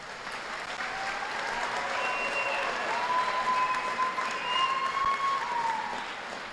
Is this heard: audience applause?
yes